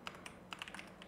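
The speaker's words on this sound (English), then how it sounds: "I'm just going to type in" Close, soft typing on a computer keyboard: a brief, irregular run of about a dozen light key taps in a quiet room.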